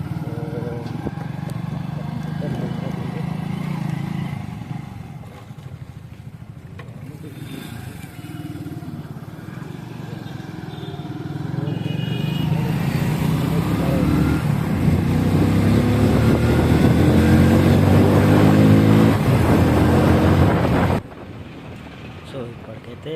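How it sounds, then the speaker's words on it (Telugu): A motorcycle engine drones steadily while riding, its note rising louder and rougher in the second half like a sports bike, with wind buffeting the microphone throughout and a sudden drop near the end. "ఫుల్ సౌండ్ వస్తుంది మొత్తం స్పోర్ట్స్ బైక్ నడిపినట్టే"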